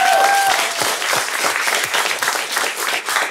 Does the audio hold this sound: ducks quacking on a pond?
no